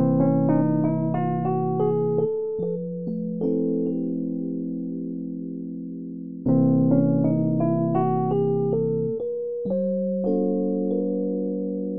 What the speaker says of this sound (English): This will also make the half-tone whole tone scale really interesting